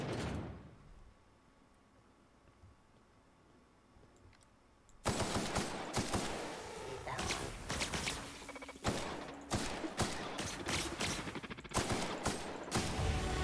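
Rapid bursts of gunfire in The Outer Worlds as robots are shot, loud and dense with repeated sharp cracks after a quiet opening, no talk over it.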